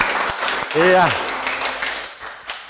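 A classroom group claps after a student presentation, a steady wash of scattered hand claps throughout, with a teacher speaking over it.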